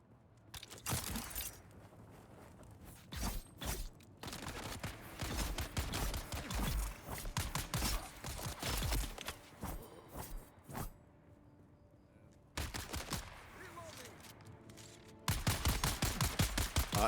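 Gunfire in Space Engineers, with rapid automatic bursts and clusters of sharp shots separated by short quiet gaps, loud and close throughout.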